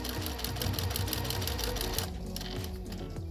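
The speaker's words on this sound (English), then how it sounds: "we're going to top stitch right along the edge" A sewing machine runs steadily as it top stitches along the folded edge of a fabric face mask cover, a close, fast, even mechanical whir that stops abruptly partway through, leaving quieter room sound.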